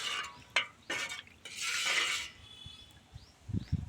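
A green chilli and garlic solution stirred in a litre of water, with a utensil clinking and scraping against the container in short intermittent strokes, close and fairly quiet.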